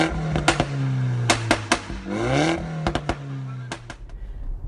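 A 2018 BMW X3 xDrive 30d diesel SUV engine revving and pulling through gears, with steady harmonic engine tone rising and falling between shifts, close and fairly loud, punctuated by sharp clicks or knocks.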